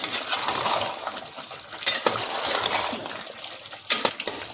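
Chicken stew with tomatoes and peas is fried dry in a pan over high gas, with close scraping and stirring, utensil clinks against the pan and soft sizzle in uneven bursts.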